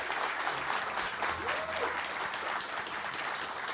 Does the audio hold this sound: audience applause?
yes